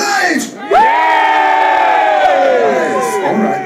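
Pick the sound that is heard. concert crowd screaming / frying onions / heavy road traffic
concert crowd screaming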